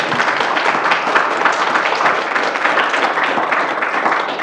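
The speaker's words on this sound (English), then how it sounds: "Maybe if we could give them a round of applause." Audience applause for panelists at the end of a discussion on sustainability and the Utah Inland Port, a loud, dense, continuous roar of many hands clapping that holds steady for several seconds with no speech.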